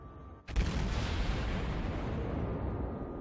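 A cruiser's naval guns firing in World of Warships, a single heavy boom followed by a long, rumbling roar that slowly fades, loud and close with no speech.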